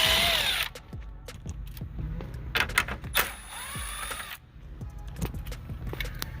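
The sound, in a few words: removing two 10 mm bolts with a power tool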